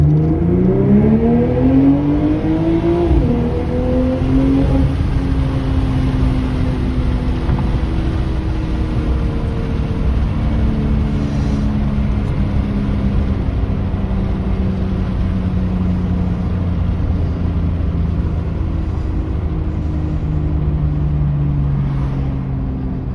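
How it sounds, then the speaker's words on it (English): BMW G42 M240i with a muffler delete and Dynomax exhaust heard from inside the cabin in Sport Plus mode, its engine note climbing under hard acceleration, then a shift and long, loud droning pull with burbling downshifts. "there's the downshifts. Actually sound quite nice, a little burbling."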